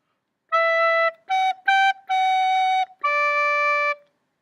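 A short melodic phrase from the Ode to Joy melody, bar 2 of section B, played as five clear sustained notes with a brief rhythmic pair in the middle, clean and close with no talking.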